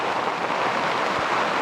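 Heavy rain pours down with gusting wind, a dense steady hiss filling the short stretch at moderate loudness.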